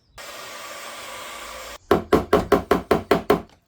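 Knocking out a dent in a BMW G31 body panel: after a hairdryer-like whoosh stops, eight sharp, evenly spaced knocks ring out close and loud on the metal.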